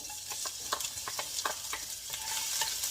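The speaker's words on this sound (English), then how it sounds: "After the oil in the frying pan is already hot, you can add our minced garlic in" Minced garlic sizzles steadily in hot oil in a frying pan, with repeated scraping and stirring clicks from a utensil close by, no voices.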